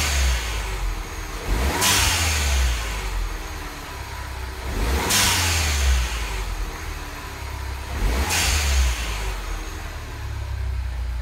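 A Mini Cooper S (R55/R56/R57/R58) fitted with a Forge blow-off valve, revved three times at even intervals with a whoosh of the valve releasing after each rev, between a steady idle, close up.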